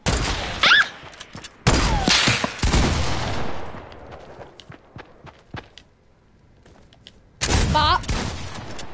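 Video game gunfire from a newly picked-up gun in a deathrun match, loud sharp bursts at the start, again around two seconds and near the end, with scattered single shots and footsteps in the quieter stretch between.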